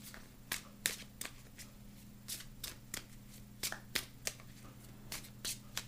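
Playing cards shuffled repeatedly up close, a steady run of quick papery riffles and snaps over a faint background hum, with no voices.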